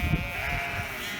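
Sheep bleat nearby in open countryside: a wavering bleat sits over outdoor background noise, moderately close and with no speech.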